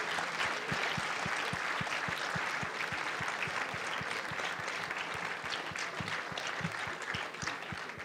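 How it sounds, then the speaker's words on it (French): An audience at a film-and-discussion session applauds the speaker, giving sustained, fairly soft clapping from a mid-sized crowd, with some distinct individual claps standing out in a steady rhythm. "On peut vous applaudir"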